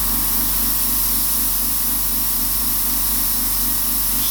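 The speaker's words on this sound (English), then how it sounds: "I can just maneuver this airbrush wherever I want to." Airbrush spraying paint while a tiger is painted, a constant loud airy hiss with a faint compressor hum underneath, unbroken for the whole stretch and with no voices.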